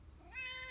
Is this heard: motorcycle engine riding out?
no